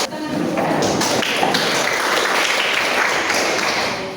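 A school class claps together in a loud, dense burst of rhythmic hand claps at close range, continuous for a few seconds in an indoor classroom.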